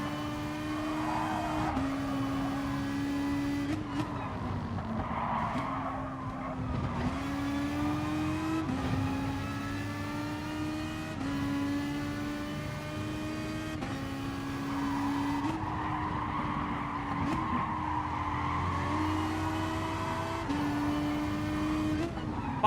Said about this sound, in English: Corvette, that's an unusual car for this track